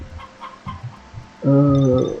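A newly hatched chick in the Harvest Moon Back to Nature video game gives a short, loud burst of bright, harmonic chirping cheeps, preceded by a low background bed with faint soft tones.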